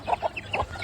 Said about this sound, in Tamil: இது நம்மளோட கீரி கோழிங்க.